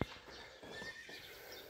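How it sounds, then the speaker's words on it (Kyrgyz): A two-year-old stallion neighs loudly and close by in one long whinny that rises and then tails off, with clip-clop sounds in the background and no talking. "Бүгүн туугандар сатууда 2 жаштагы куман бар."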